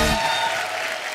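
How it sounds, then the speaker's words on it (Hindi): A short burst of studio audience applause on a Hindi comedy talk show, dense clapping that starts loud and thins slightly as it continues, heard alone without speech. "एक बार भुज की कास्ट के लिए जोरदार ताली हो जाए।"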